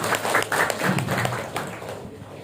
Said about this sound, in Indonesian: Tepuk tangan dulu untuk narasumber.